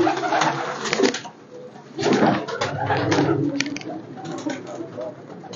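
A racing pigeon coos in soft, repeated throaty calls close by, the rounded bursts coming in uneven groups over faint background noise.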